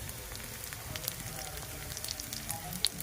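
Dried chillies with coriander and cumin paste hitting hot oil in a pan, a soft steady sizzle and crackle with scattered pops, fairly close and low in level, no talk.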